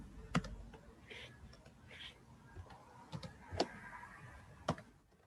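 Typing on a computer keyboard while entering text in InPage: scattered, quiet keystroke clicks with a few sharper taps at irregular intervals, heard close over a faint background with brief murmurs of a voice.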